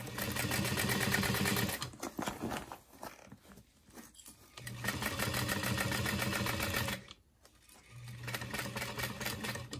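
A sewing machine stitches a flat side panel seam on a satchel bag at stitch length 4, running in two long steady bursts with a brief pause between, loud and close with no voices.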